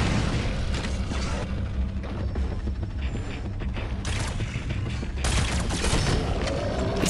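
Rapid, overlapping bursts of gunfire and mechanical clatter from the video game Shadowgun Legends roll on continuously, dense and loud with no pause.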